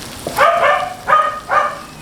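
A dog barks three times in quick succession, fairly close, over a faint hissing background.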